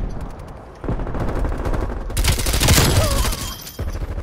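Rapid gunfire from Call of Duty Black Ops Cold War, dense bursts of shots rising into a loud sustained volley in the middle, then easing off near the end.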